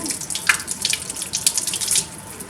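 Water running steadily from a sink tap in an art room while a paintbrush is rinsed under it, a close, continuous splashing hiss with small spattering bursts and no voices.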